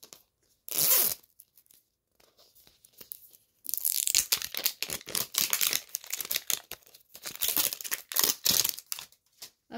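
Mini Brands sneaker packaging being torn open by hand: a brief rip, then a long run of close, loud tearing and crinkling of paper and plastic in uneven bursts.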